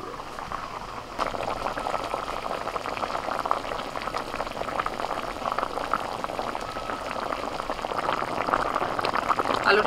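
Large-cut potatoes boil in salted water in a wok, giving a steady close bubbling and gurgling that begins after a soft start and swells slightly toward the end, with no talking.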